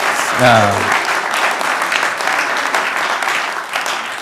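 Audience applause at a Town of Indialantic council meeting: a steady wash of many clapping hands filling the room, with a short voice heard near the start beneath it.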